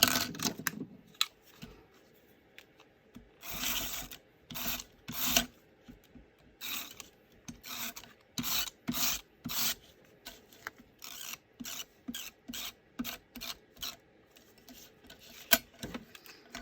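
Dotty tape pin pressed onto craft die pieces and cardstock, a series of close, sharp rubbing and ratcheting bursts in an irregular rhythm, separated by short quiet gaps, with no talk.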